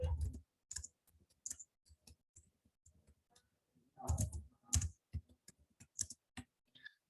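Keystrokes on a computer keyboard while a network command is entered into a router command line, close and fairly faint, coming in short irregular bursts of clicks with gaps between them.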